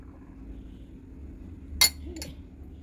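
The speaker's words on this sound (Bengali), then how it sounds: "এবার ভালোভাবে মিশিয়ে দিচ্ছি" A spoon stirs watermelon sharbat mixed with lemon juice and salt in a glass, giving two quick, faint clinks against a quiet background hum.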